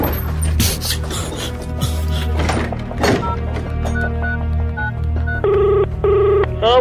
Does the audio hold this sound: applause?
no